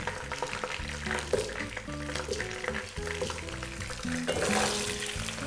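Potatoes sizzle steadily in hot oil in a pan while Adeni zurbian with chicken is prepared, a continuous loud frying hiss with a few stirring clatters and no talk.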